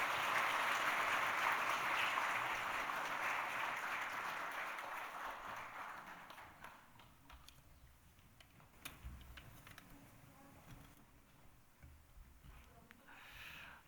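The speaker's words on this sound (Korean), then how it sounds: "우리 큰 박수로 축하해 주시기 바랍니다." A church congregation applauds during a Sunday worship service, a broad wash of clapping that is loud at first and thins out after about six seconds, leaving scattered claps and room noise.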